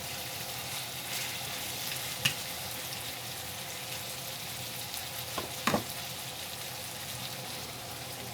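Oxtail sears in a pan on a stovetop with a constant close sizzle, broken by a few light clinks and scrapes as the meat is moved.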